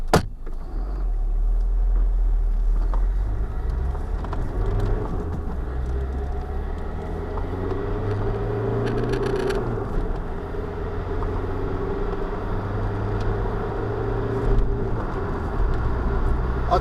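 A Citroen XM car cruises along the road, its low engine and tyre rumble steady and close from inside the cabin, with gentle shifts in pitch and a few faint rattles.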